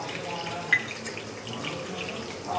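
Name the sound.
water poured into pan with cardamom, cinnamon and cloves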